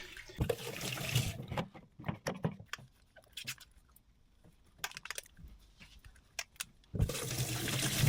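Water gushes from a tap over frozen paneer set to soak in a kitchen, loud bursts at the start and end with faint clinks and handling noises in the quieter middle.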